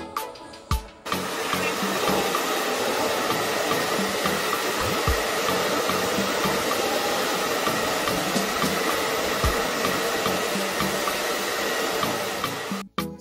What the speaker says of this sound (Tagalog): So, blower muna natin ito mga Lods.